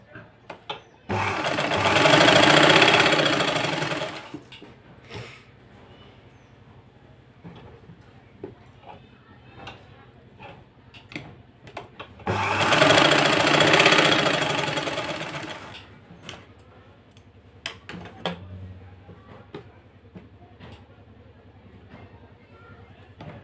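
A sewing machine stitches a lining blouse in two loud bursts of running, each a few seconds long, separated by quieter handling and fabric shuffling with no talk.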